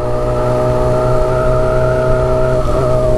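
A gold Honda Hornet motorcycle engine holds a loud, steady high-revving drone with strong harmonic tones, close and continuous, dipping briefly near the end before picking back up.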